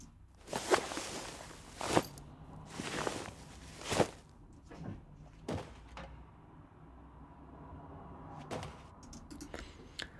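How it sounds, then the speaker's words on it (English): Sandbags dropped as foley for a First World War trench scene, a series of heavy, muffled thuds landing every second or two, some with a gritty shuffle after, fairly quiet and close with no talk. "And I've got some sandbag drops."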